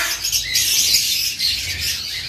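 A bird calls with high, continuous chirping and squawking, fairly loud and close, with no talking.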